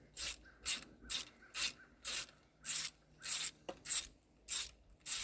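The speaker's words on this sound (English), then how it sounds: "I do love the sound of a good ratchet." A manual ratchet turns a bolt on a Jeep in about ten steady back-and-forth strokes, each a close, raspy burst of fine clicking separated by short pauses, with no talking.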